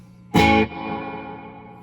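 A single sharp electric guitar pluck cuts off abruptly, leaving a softer, shimmering spring-reverb wash that lingers and slowly fades; only the reverb wash is delayed, not the pick attack. No voices.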